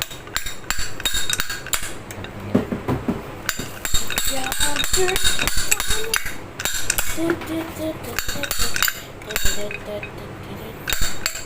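Rapid metallic hammer blows ring out repeatedly in quick bursts, close and sharp, as a seized part is driven out of a Hatari electric fan, with clinking metal between strikes and someone speaking occasionally.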